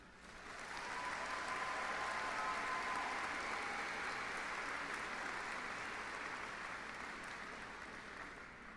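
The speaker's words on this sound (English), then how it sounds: "Please join me in a round of applause for them." Audience applause at a 2019 graduate commencement for graduates' friends and family, a broad wash of clapping that swells in, holds steady, and eases off slightly at the end.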